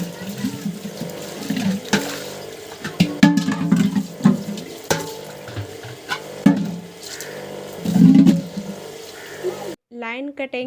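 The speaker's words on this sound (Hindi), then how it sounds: "जल्दी जल्दी से हम पहले बर्तन सभी को अच्छे से धुल लेते हैं" Utensils being washed by hand with running water at home in a kutcha village house, splashing and clinking in irregular bursts close by, with a voice talking over part of it.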